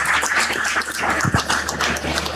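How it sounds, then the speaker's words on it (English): Brisk audience applause after a keynote address at an international conference, a steady patter of many hands clapping at moderate loudness with no talk over it. "With a huge round of applause, guys, again."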